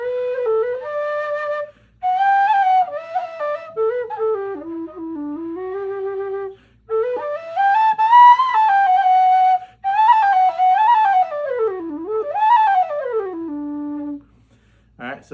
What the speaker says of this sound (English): But it's a beautiful whistle